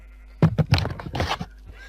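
Horse in a video game neighs: a close, clear whinny of several quick rising bursts followed by a longer, wavering trailing call, alone against faint background hum.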